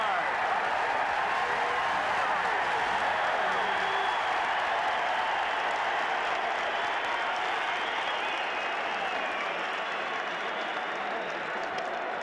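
Football stadium crowd in a 1987 CFL game between Ottawa and Saskatchewan roaring and applauding after a quarterback sack, a sustained loud wall of cheering with commentators talking over it.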